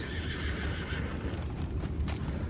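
Horses in Red Dead Redemption 2 whinny and clop their hooves against a steady outdoor rumble, with a sharper burst near the end; no one speaks.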